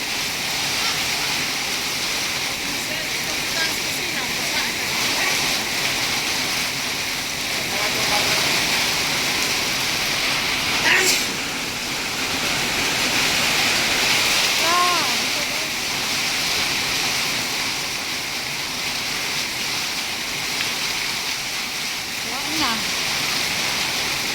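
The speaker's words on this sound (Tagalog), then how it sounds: "ulan na to kay sobrang lakas oh" Heavy rain pours steadily in a dense, hissing wash, with a few faint voices briefly heard beneath it.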